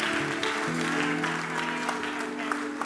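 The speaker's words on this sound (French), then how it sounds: "On applaudit Jésus ici." Brisk applause from a congregation at a Christian worship service, a steady wash of clapping that carries on throughout at moderate volume.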